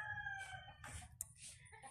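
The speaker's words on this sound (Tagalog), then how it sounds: "Ang daming manok eh." Chickens cluck and a rooster crows faintly in a rural farmyard, short scattered calls over low background noise.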